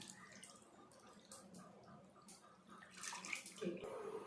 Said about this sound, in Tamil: பால் கால் லிட்டர் ஊற்றுறேன்